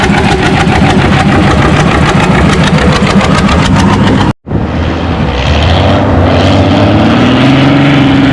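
A John Deere pulling tractor roars loud and close at a tractor pull, its engine a dense sustained drone that cuts out for a split second, then rises again with a climbing pitch.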